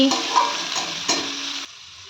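A spoon stirs chopped green beans and onion frying in a pan for vegetable soup, with loud sizzling and a few scraping strokes before the sizzle cuts off abruptly near the end.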